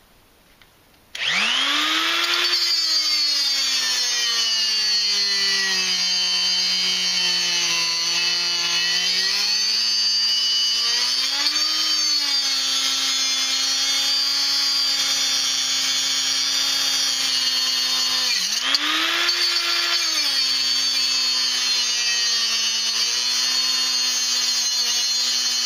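Electric 3-inch high-speed cut-off tool cutting an angled groove, a loud steady high whine that starts abruptly, dips in pitch as it bites into the work and recovers, sustained close-up with no talk.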